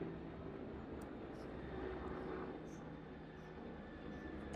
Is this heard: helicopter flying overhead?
yes